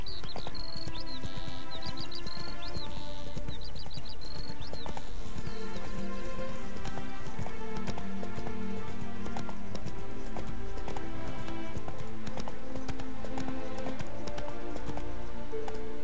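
Roach the horse galloping in The Witcher 3 around Novigrad, hooves clip-clopping in a steady rapid rhythm, close and loud over background game music.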